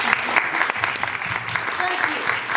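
A school band applauds at a winter concert, producing dense, continuous clapping from a group that lasts the whole short stretch, with a voice faintly audible underneath.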